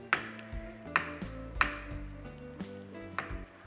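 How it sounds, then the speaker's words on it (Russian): Knife chopping potatoes into cubes on a cutting board while making nettle and sorrel soup, with about five sharp, evenly spaced chops standing out clearly close up and no talk over them. "Нарежем нашу картошку кубиками."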